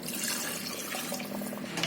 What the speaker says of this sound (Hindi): तो पानी हम इसमें डाल देते हैं 2 गिलास